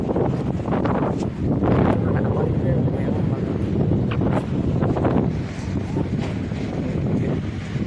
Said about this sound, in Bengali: মানে কত যে বাতাস এটা বুঝাইতেছে। ওই দিকেও দেখেন বিরুতে বুঝাইতেছে না, অনেক বাতাস, অনেক।